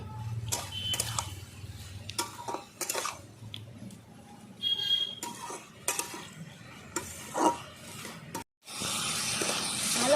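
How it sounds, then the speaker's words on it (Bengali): Tomato and slit green chilies are stir-fried in a pan with irregular scraping and clinking strokes of a spatula over a soft sizzle, close by and without talk. "ভালো করে আমি এবার কষিয়ে নিচ্ছি"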